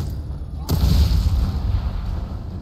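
A single sharp, heavy explosion bursts in The Evil Within 2 after a brief quiet lead-in, its deep boom rumbling and decaying over the next two seconds.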